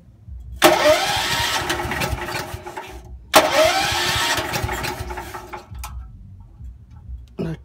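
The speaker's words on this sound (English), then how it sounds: "This is the pony motor that it has. It's a two-cylinder coulter motor." A two-cylinder Continental pony motor on a 1985 Great Dane crane trailer cranks and catches twice, each time running as a loud, steady, close mechanical chatter before cutting out, with no one speaking.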